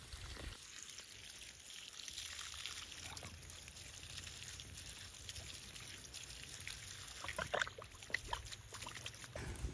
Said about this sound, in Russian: У нас кран, наверное, поэтому так булькает тоже.